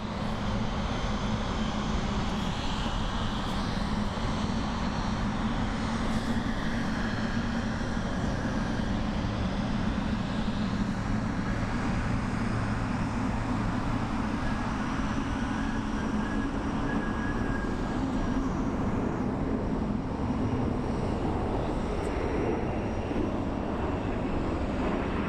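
A large airliner at Frankfurt Main Airport roars continuously up close, a dense broadband engine rush with a high whine holding at a steady loud level throughout, with no talk over it.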